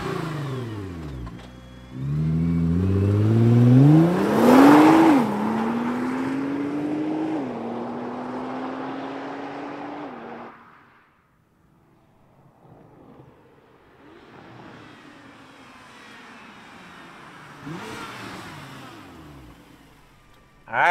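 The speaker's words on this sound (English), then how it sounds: "let's fire up Godzilla and hear what he sounds like." A Nissan GTR engine cranks and fires up, then revs sharply several times, settles to a rough idle and revs again, loud and close.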